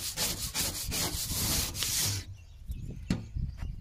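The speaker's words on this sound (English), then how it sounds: "Using a sander block to move the stuff around, get the little edges off" Sanding block rubbing back and forth over rough edges up on a roof, several close scraping strokes in steady rhythm, stopping partway, then a few lighter brushes and a knock.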